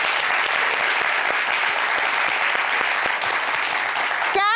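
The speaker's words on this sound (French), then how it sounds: "On applaudit." Studio audience applauding a guest named Caprice on a radio or TV show, steady dense clapping at an even level throughout, with a short tonal sound right at the close.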